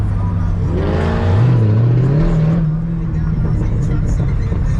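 A Camaro ZL1 or Cadillac CT5-V Blackwing revs hard on a Dallas street, loud and close: the engine note climbs sharply, holds high for a moment, then settles into a rumbling idle.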